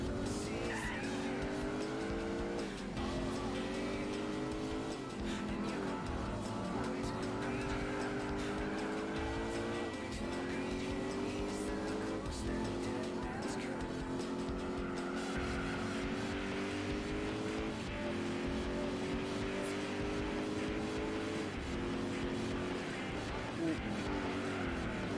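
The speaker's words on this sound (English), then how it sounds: "Rallycross in a Buick." A Buick in a rallycross race in Gran Turismo 4, its engine droning and revving up through repeated gear changes, with tire skids and squeals over a steady game mix and a voice talking intermittently.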